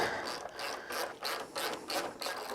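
Bolts are tightened down on a Harley-Davidson Street Glide with a ratchet, a steady run of close, rhythmic rasping clicks in quick back-and-forth strokes and no voices.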